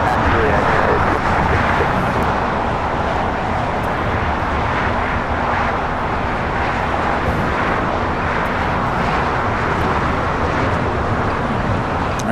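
An airliner taxiing at LAX toward runway 25 right, a steady loud broadband engine roar without breaks, close and constant throughout.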